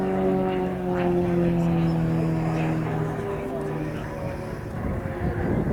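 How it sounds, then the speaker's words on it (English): Display aircraft at the Royal International Air Tattoo fly past, with a steady, loud droning engine hum and strong low harmonic tones that shift slowly in pitch as the aircraft cross the show area. "the other 3 aircraft are entering from the left"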